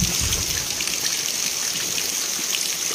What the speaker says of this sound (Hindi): ये रेनी सीज़न है तो बारिश होना भी चाहिए।